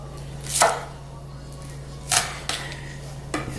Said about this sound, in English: So I cut the onions about like an inch or 2 or an inch